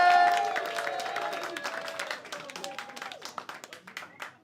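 Comedy club audience applauding and cheering as a comedian walks on stage, a dense wash of clapping and whoops that starts loud and thins out while voices carry over it.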